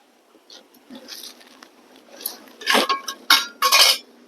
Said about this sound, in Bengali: এটাকে এখন একটু ঢাকা দিয়ে দেবো